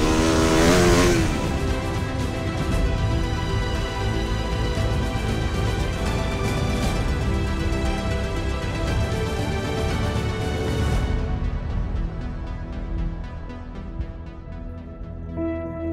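A stunt motorcycle engine revs hard and steadily before a ramp jump, a loud, close, sustained drone that holds for about eleven seconds before cutting off into quieter fading noise.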